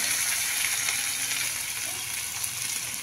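Ginger, garlic, green chili and coriander paste frying in a pan with cumin: a dense, continuous hiss of sizzling oil held at a steady level throughout, close-up and without speech.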